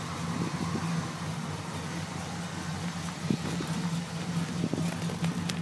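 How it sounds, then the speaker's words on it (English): 1953 Chevy truck with headers and stock turbo mufflers, pipes running out through the roll pan, idling: a quiet, even low engine hum with a few small clicks and knocks over it, no voices. "Truck not very loud, has headers,"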